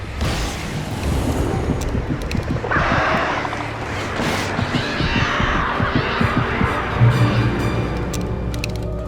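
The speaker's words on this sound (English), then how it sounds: "God damn birds." Swarm of attacking birds in Alan Wake Remastered: a dense, continuous mass of harsh cawing and honking cries with flapping and game noise, loud and unbroken throughout.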